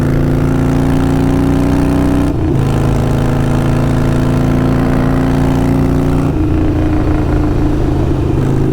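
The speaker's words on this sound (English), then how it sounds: "This is definitely a very loud, very prominent, lets you know, lets everybody know around you" A Harley-Davidson Sportster 48 with an unbaffled Kinetic 540 lateral exhaust rumbles loud and close, its deep steady idle broken by two sharp throttle blips.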